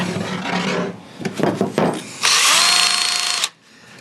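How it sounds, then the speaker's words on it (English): A wire wheel on a power drill scours rusty motor parts of Al Capone's car, a harsh rasping whir in short bursts followed by a long steady high grind, close and loud with no talking. "I'm doing most of this job using a wire wheel on my drill"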